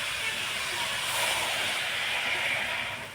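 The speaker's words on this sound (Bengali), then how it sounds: "এবার এর মধ্যে দিয়ে দেব 1 বাটি গরম জল" Hot water poured from a bowl into sautéed cabbage with sugar in a hot pan, giving a steady, loud hiss of steam that swells slightly and holds for a few seconds before easing off.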